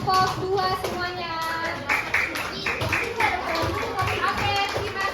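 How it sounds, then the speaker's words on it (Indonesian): Children in a classroom clap for a student group, a short burst of hand claps and tapping mixed with lively kids' voices and chatter throughout. "tepuk tangan dulu untuk kelompok 2 semuanya"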